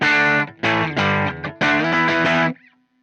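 A distorted electric guitar played through an Aclam Go Rocky Go pedal chugs out thick, crunchy chords in a few loud strummed bursts, then cuts off and rings out briefly, with no talking.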